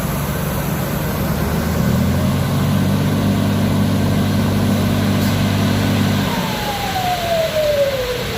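A Fuso 527SR tractor head with a 240-horsepower engine idles in a steady, loud low rumble, joined near the end by a rising whine.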